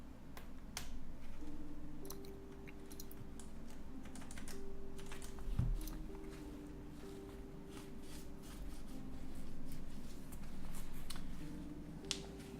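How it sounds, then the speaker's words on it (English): Keyboard switches with keycaps on being pressed into a Chiwi60 board during a build, a steady run of small clicks and taps with one sharper snap, close and fairly quiet. "I'm inserting this with keycaps."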